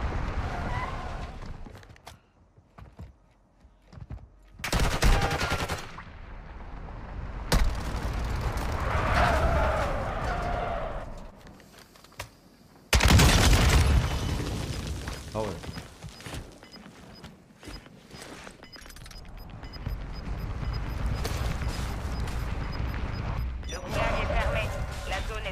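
Video game gunfire and blasts come in sharp, loud bursts separated by quieter stretches, with someone talking in French between and over them.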